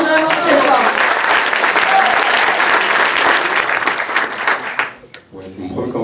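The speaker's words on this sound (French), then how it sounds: "On applaudit vraiment très fort." Loud audience applause at a short-film awards ceremony, a dense steady wash of many hands that fades out near the end, with voices coming in afterward.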